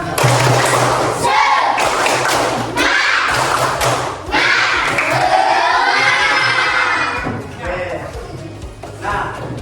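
A class of schoolchildren performs a spirit clap during a religious-studies lesson, with loud, close bursts of rhythmic clapping and stomping mixed with shouted chanting voices.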